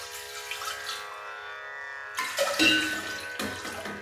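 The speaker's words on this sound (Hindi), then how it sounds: "आमे 2 ग्लास दबा पानी जेतिके सूजी नेबे तार डबल नेबे पानी।" Water is poured into a pot for cooking semolina, first as a smooth ringing stream, then as louder splashy bursts of pouring toward the end.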